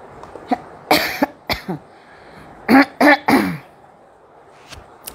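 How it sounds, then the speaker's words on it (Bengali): A person coughs repeatedly in a quiet room: scattered single coughs, then a cluster of three loud, harsh coughs with throat clearing, trailing off into faint ones. "শুরু হলো আমার কাশি"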